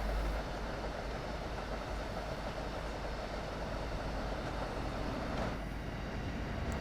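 An Amtrak train rolls past in the Train Sim World 2 railway simulator on its Boston route, a steady, faint low rumble of wheels and engine that continues unbroken throughout.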